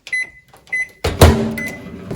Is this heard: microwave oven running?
yes